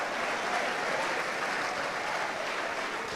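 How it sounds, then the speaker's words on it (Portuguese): Applause from a church congregation during a sermon, a soft, even patter of many hands heard faintly and at a distance, steady throughout. "Você não acha que ele merece muitos aplausos e muitos glórias?"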